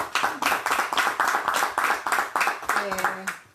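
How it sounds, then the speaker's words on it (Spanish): An audience claps for Pedro Linkowski, an activist and longtime member of Club Pérez de Villa Lynch, with steady rhythmic clapping running through and a voice speaking near the end. "pido un aplauso para él"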